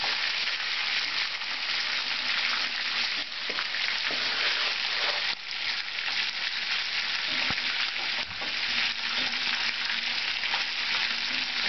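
Albondigas meatballs fry in a frying pan with a steady, close sizzle and occasional spattering pops, continuous and unbroken, with no voices over it.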